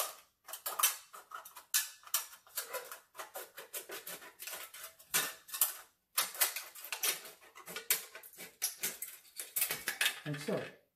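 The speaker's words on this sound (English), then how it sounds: "we're just going to cut a line up to the top" Scissors cutting thin aluminum foil from a can for an alcohol stove, a close series of crisp snipping and crinkling bursts in an irregular rhythm, with brief pauses between cuts.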